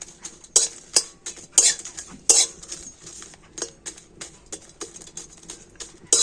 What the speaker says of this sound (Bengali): তো প্রথমে আমি শুকনো লঙ্কা কটা কড়াতে দিয়ে দেব। যেহেতু লঙ্কা ভাজতে একটু সময় লাগে